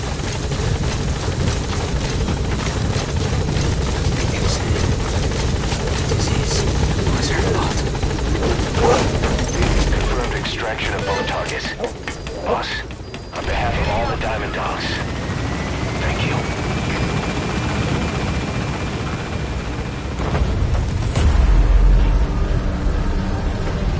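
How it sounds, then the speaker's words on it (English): Helicopter rotor and engine drone during an extraction in the video game Metal Gear Solid V: The Phantom Pain, a steady loud whirring that persists for the whole stretch, mixed with game effects and a rising tone near the end. "Get him out by chopper."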